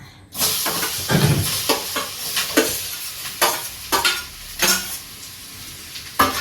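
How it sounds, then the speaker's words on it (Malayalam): Ripe banana pieces sauté in a small amount of ghee, giving a steady close sizzle broken by repeated stirring scrapes of a spoon against the pan, with no talking. "എന്താ പഴം ഒന്ന് വഴറ്റാനാണ്"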